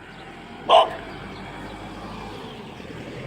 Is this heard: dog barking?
yes